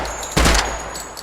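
A single short burst from a modernized PK-46 machine gun during a weapons test, a loud broadband blast lasting about a quarter second that rings briefly before fading into steady background hiss.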